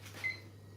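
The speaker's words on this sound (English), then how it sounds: "Stop beeping." A small electronic device gives a single short, thin beep, fairly close and clear, over a steady low hum in a quiet room.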